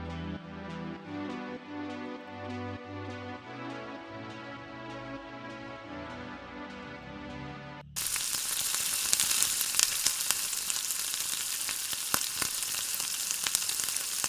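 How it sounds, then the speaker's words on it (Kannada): Dried fenugreek leaves (kasuri methi) hit hot oil in a pan for soybean pulao, and after a stretch of music a steady, bright sizzle of frying takes over, close and continuous with faint crackles, no talking. "ಅದು ಎಣ್ಣೆಲಿ ಫ್ರೈ ಆದರೆ ಇನ್ನೂ ಚೆನ್ನಾಗಿ ಫ್ಲೇವರ್ ಬಿಡುತ್ತೆ"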